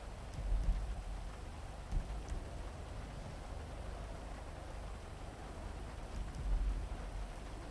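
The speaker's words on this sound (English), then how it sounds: "That it's raining heavily up here." Heavy rain pours in the video game GTA V, a steady, dense roar with a few low rumbles underneath that goes on without a break.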